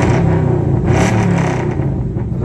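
A Chevrolet Camaro engine roars in a short, loud rev close by, a deep throaty surge that swells and then settles back to a rumbling idle.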